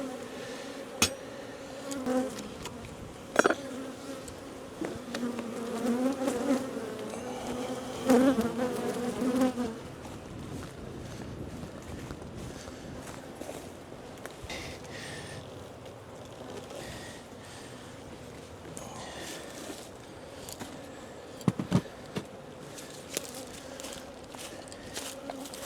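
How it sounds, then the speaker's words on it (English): Dense buzzing from many honey bees in a hive fills the whole stretch, a constant drone with occasional knocks and bumps, louder in the first third. "A lot of bees in here"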